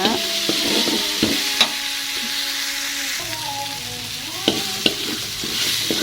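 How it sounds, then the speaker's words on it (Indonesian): Balado spice paste sizzles and fries in a wok while a utensil stirs it, with scattered scraping clicks against the pan over a steady close hiss and no talk. "ini terus aja ditumis, diaduk-aduk sampai bumbunya benar-benar matang ya."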